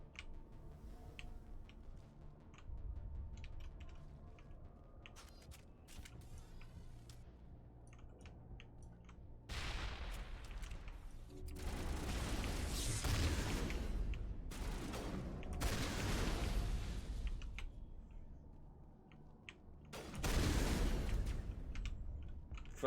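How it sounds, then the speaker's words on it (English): Shotgun fire in Mass Effect Legendary Edition comes as several loud, blasting bursts of gunfire, each a dense roar lasting a second or two, separated by quieter clicking and game ambience. "Fuck yeah, shotguns."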